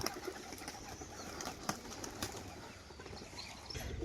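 Pigeons kept in a loft, with soft cooing and several quick bursts of wing flapping over a rustling, fairly quiet background.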